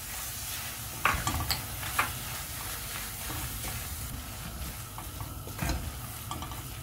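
Paneer stuffing frying in a pan, stirred with a utensil: a continuous soft sizzle with a few sharper scrapes and knocks against the pan, near and moderately quiet, no voices.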